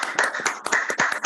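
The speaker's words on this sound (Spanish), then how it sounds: "Nos aplaudimos a todos" A small group of people clapping together at the close of a theatre forum, with quick uneven claps close to the mic and no talk over them.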